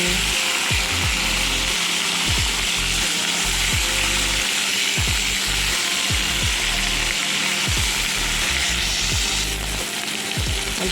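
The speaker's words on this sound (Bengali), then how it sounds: "তারপরে কিন্তু কেটে রাখা টমেটোটা দিলাম টমেটোটা একটু ভালো করে নরম করে নেব" Chopped tomatoes fry in a pan over black cumin and bay leaf tempering, a loud, continuous close sizzle broken by repeated scraping stirs of a spatula.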